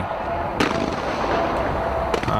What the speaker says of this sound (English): These visuals are of the fireworks which are going in to mark the opening of Tokyo Olympics 2020.